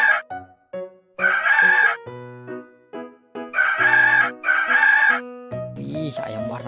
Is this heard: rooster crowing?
yes